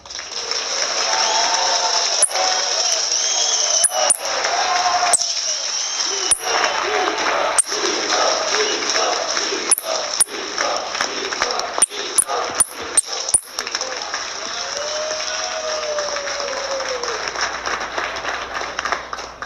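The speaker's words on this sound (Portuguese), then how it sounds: "eu queria a maior salva de palmas de todas para ele agora" A crowd at the Agrishow agricultural fair applauds President Bolsonaro with a long, loud, steady roar of clapping and crowd noise. Scattered sharp clicks and pops cut through the sound, and voices mingle in the din.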